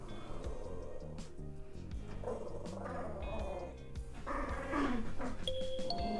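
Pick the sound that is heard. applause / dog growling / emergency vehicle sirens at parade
dog growling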